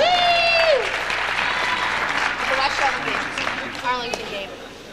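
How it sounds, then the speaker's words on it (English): A crowd at a basketball semi-final applauds warmly, dense clapping rising and holding throughout, with a voice speaking briefly over it near the start and cheers or whistles scattered. "How about a round of applause?"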